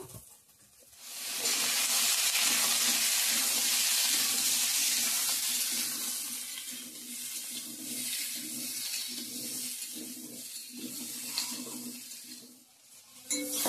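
Chopped pumpkin, stalks and potato hit hot oil tempered with dried red chilli, bay leaf, onion, garlic and five-spice, setting off a loud, steady sizzle that rises after a quiet second and continues with slight fluctuations.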